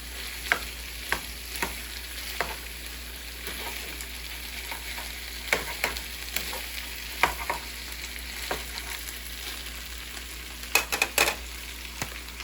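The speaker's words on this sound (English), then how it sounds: "start breaking it up and start frying the rice" Steady oil sizzle of rice frying in a pan for Spam fried rice, with repeated scraping clicks of a utensil stirring, close and moderately loud, no voices.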